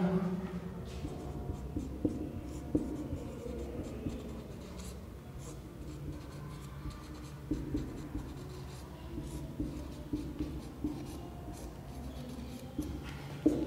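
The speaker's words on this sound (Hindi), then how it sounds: "मान लो मैं यहां लिख दूं" Chalk or marker strokes on a classroom board during a Hindi grammar lesson, a steady scratching run of short writing strokes at close range for the whole stretch, with no talking.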